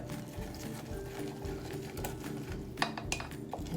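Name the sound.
mixing pumpkin protein waffle batter with chocolate chips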